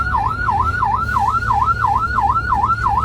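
An ambulance siren in traffic, wailing steadily up and down in a regular cycle, loud and close over a low traffic rumble.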